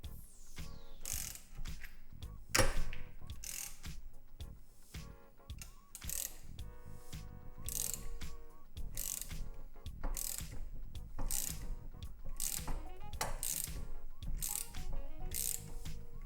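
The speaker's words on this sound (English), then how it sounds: "I use the gear puller to remove the bearing housing with most of the bearing itself" A gear puller ratchets and creaks as it draws the rear wheel bearing housing off a Honda NSX hub clamped in a vise, with repeated clicking strokes and sharp metallic pops over about sixteen seconds.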